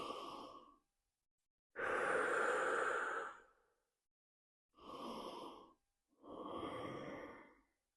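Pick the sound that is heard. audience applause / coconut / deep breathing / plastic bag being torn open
deep breathing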